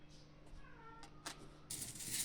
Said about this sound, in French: j'ai le chat qui miaule